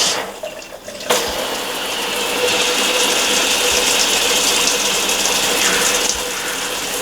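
Cold tap of an RV shower in a Winnebago View or Navion running pink antifreeze water during winterizing: a click of the valve, then a steady, fairly loud hissing rush of spray that keeps going without pause.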